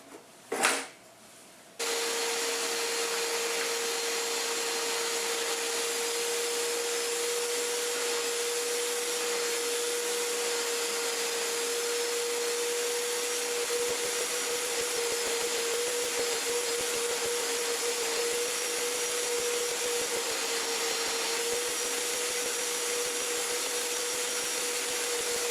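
A Hoover Power Scrub carpet cleaner works on upholstery fabric, giving a sharp knock, then a loud, continuous high-pitched motor whine with a steady tone that holds unchanged for over twenty seconds at close range.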